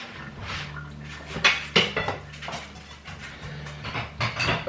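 Dishes and cutlery clatter and clink as a dishwasher is unloaded, with irregular sharp knocks over a low hum of household background.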